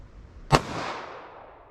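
A single shot from a 5.3-inch Glock 41 pistol cracks out sharply, loud and close, followed by a short fading echo.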